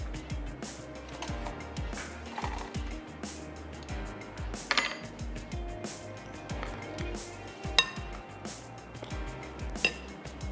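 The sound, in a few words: spoon clinking in a dish while layering crushed biscuits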